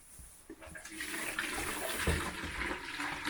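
Fresh, warm water pours from a jug into a container for chickens in a cold coop, a steady close splashing and gurgling that builds and continues throughout without talk.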